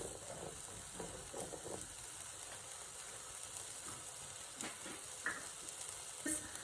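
Potatoes and peppers frying in a pan as they are stirred around, a faint, even sizzle with occasional soft scrapes and clinks, with no talking.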